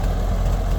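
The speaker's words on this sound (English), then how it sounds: "Wow, yes, it's a nice little tractor." A Ford 8N tractor engine idles, a loud, steady low rumble that runs close and unbroken throughout with no voices.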